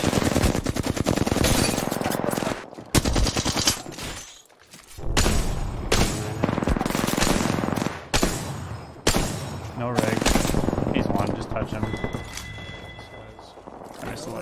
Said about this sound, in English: Shots right there.